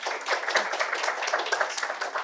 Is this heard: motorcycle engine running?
no